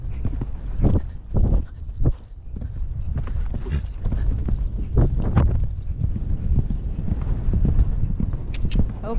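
A horse ridden at an eventing horse trial (Intermediate/Preliminary level) thuds its hooves on the ground in a steady rhythmic clip-clop, close and fairly loud, with wind buffeting and a rider's voice talking now and then.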